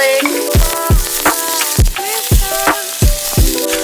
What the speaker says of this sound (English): we're gonna saute it with extra virgin olive oil